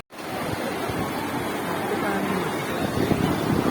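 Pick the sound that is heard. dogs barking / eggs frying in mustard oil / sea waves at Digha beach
sea waves at Digha beach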